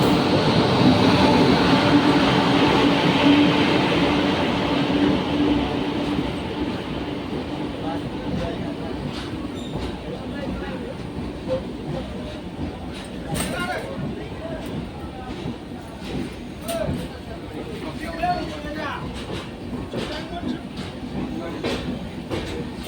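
The Dhauli Express passenger train rumbles steadily toward Bhubaneswar, heard from inside with continuous rolling noise and faint clickety-clack of the rails, while people talk under the din.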